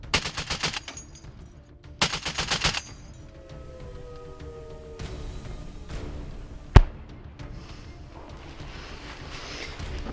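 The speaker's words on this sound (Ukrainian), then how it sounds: "Постріл, постріл. Плюс постріл. Міна." Several bursts of rapid gunfire in short volleys on a battlefield, then a single sharp loud mortar blast, with a steady low rumble and background noise between.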